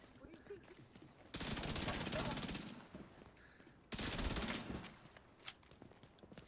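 Two sustained bursts of automatic gunfire from the Backfire gun in The Division 2, each lasting a couple of seconds, loud and dense over faint game ambience.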